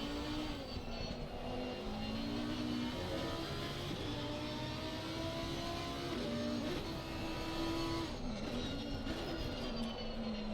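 Race car lapping Mount Panorama in a racing video game, its engine droning steadily and loud with shifting pitch as it revs and drops through gears and corners, continuous for the whole stretch with no talk.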